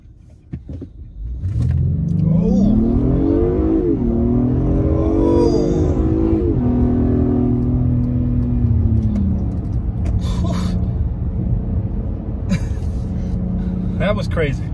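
Acura TLX PMC sedan with a naturally aspirated V6 launching from a standstill, engine note rising loud and close through the gears before settling into a steady drone, with people talking over it.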